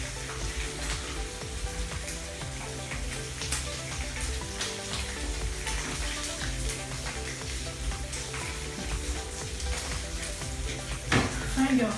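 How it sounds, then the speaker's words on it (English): Meat sizzling and frying in groundnut oil in a home kitchen pan, a continuous crackling sizzle throughout with occasional stirring clatter near the end. "See me fry meat."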